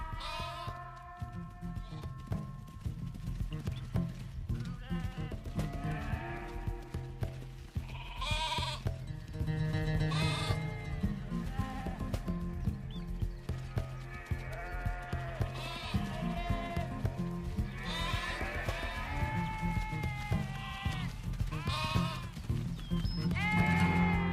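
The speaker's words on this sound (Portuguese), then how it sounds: "A fêmea Jenny permanece com as ovelhas" A flock of sheep bleats loudly and continuously, with many overlapping calls near and far on open ground where a female guard donkey stays with them.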